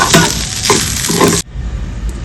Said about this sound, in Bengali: এবার এটাকে মিশিয়ে নেব